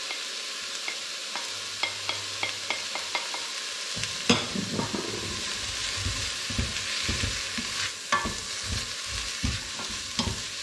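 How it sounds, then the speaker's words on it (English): Onion and garlic frying in oil in a pan, a steady broad sizzle with scattered clicks and scrapes of stirring, close and continuous, louder after the first few seconds, no talking. "I'm gonna put a bit of oil in to start with. Onion in first."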